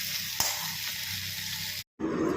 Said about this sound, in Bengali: এখানে এখন মশলা কষানো চলছে